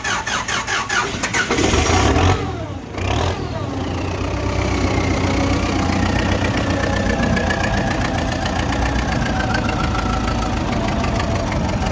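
A diesel engine is cold-started at minus 20 degrees, with rapid rhythmic cranking that breaks off briefly. The engine then catches and settles into a loud, steady, knocking idle heard up close.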